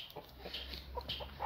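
Bantam chickens let outdoors cluck softly in short, scattered calls over a steady low hum, with a few brighter chirps mixed in.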